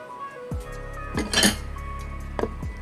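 A metal lid is set onto a cooking pot in a kitchen, giving a couple of close clinks and a brief ringing clatter over a steady background hum.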